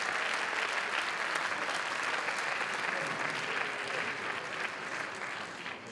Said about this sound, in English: Give all those teams who won category prizes a huge round of applause